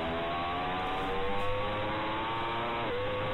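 A racing motorcycle accelerates hard at full throttle out of a corner on the Almeria circuit, its engine note climbing steadily and loud with a brief shift dip near the end.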